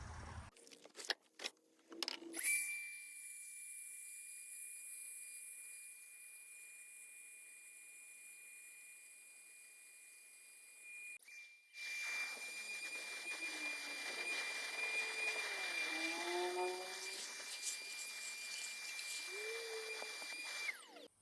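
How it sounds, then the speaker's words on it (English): A vacuum cleaner runs steadily while cleaning out an Allis-Chalmers FT 20 forklift. It starts after a few clicks, stops briefly, then resumes with its pitch shifting as the nozzle moves, and it sounds moderately close. "I'm going to grab the vacuum. We're going to get this guy cleaned out"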